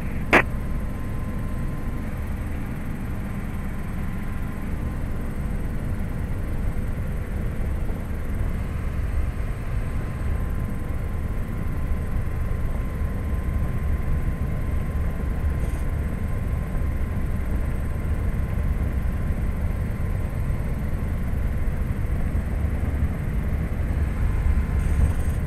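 An experimental turbine helicopter flies at sunset near French Valley and Canyon Lake, giving a steady, continuous low rumble and whine that holds at an even loudness with no speech over it.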